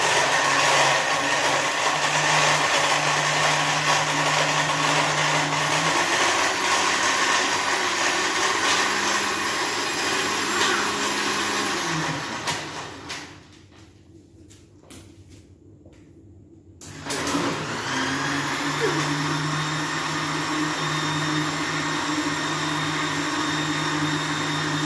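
A kitchen blender whirs loudly as it crushes ice cubes for a banana shake, running steadily, pausing briefly midway, then roaring back up with the motor's pitch shifting as the ice breaks down.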